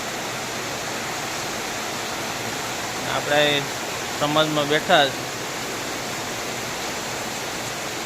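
Heavy monsoon rain pours down steadily as a dense, even hiss under dark skies with cattle sitting nearby, continuous throughout, while someone briefly speaks over it midway.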